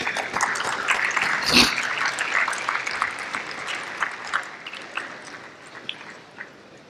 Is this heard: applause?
yes